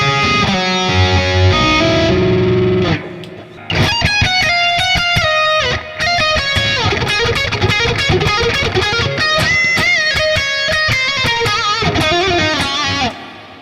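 An electric guitar played through the Fortin Nameless X amp plugin with a fuzzed tone plus light delay and reverb, starting with sustained chords and then moving into a busy, ringing lead run.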